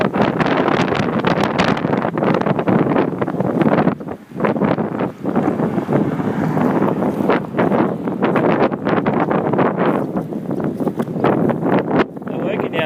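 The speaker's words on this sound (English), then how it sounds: "Very, very windy." Strong, gusty wind buffets the microphone outdoors on a rural property, a loud continuous broadband roar with brief lulls near four seconds, and a person talks over it.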